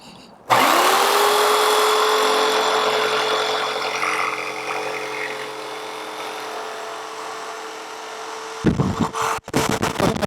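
A jigsaw runs through wood guided by a DIY jig, its blade set through a small drilled hole; a steady, loud motor whine with a buzzing edge holds for about eight seconds, then cuts off into clattering handling noise.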